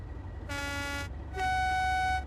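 A train horn in a train simulator game sounds twice, two loud sustained tonal blasts about half a second and a second long, the second louder and slightly lower.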